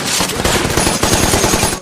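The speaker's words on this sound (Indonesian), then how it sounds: "tiba-tiba mendengar tembakan berbunyi keras dari salah satu marinir yang sedang berjaga" Rapid automatic gunfire from a marine on guard at night in the Pacific during World War II, a loud, dense burst of shots rattling continuously for about two seconds with no voices.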